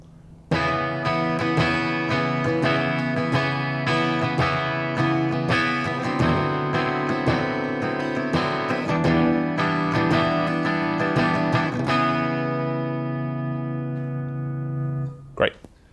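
Electric guitar through a Randall Thrasher amp head, mid shift switch in the down position, plays sustained distorted chords and picked accents for about twelve seconds, loud and even, then rings out to near silence with a short closing noise.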